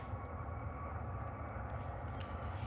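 Ryanair Boeing 737 Max airliner at Liverpool Airport, a steady broadband engine roar filling the whole stretch at moderate distance, with no talk over it.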